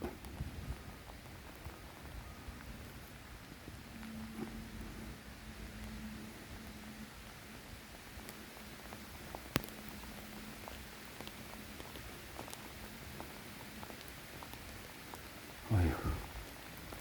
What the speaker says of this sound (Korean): 지금 비가 소낙비가 오네요